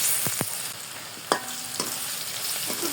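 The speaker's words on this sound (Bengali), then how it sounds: "দিয়ে দিব একটি তেজপাতা দুটি শুকনো মরিচ দিব ব্রেড করা রসুন" A bay leaf, two dried red chillies and chopped garlic go into hot oil in a pan, sizzling steadily under a few sharp clacks of a spoon stirring against the pan. No one speaks.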